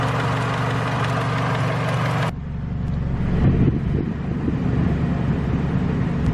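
A running car engine idles with a steady low hum and rattle, shifting abruptly in tone as the air conditioning is switched on with its low pressure switch bypassed and the load comes on.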